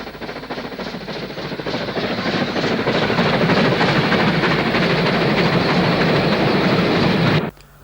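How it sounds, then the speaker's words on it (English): Stanier 8F steam locomotive 48060, built by Vulcan Foundry in 1936, hauls a northbound freight out of the Lune Valley at Low Gill, a loud, steady rumble and rapid rhythmic exhaust building over several seconds before cutting off abruptly. "Stenier 8F 48060, built by the Vulcan Foundry in 1936, heads Nup freight out of the Loon Valley at Low Gill"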